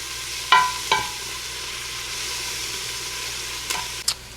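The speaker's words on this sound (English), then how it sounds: "we're gonna let this saute for like a minute and then add in our tomato sauce" Garlic and crushed red pepper sauté in a pan as the base for a creamy cioppino: a steady, moderate sizzle runs throughout, punctuated by a few sharp utensil clinks near the start and end.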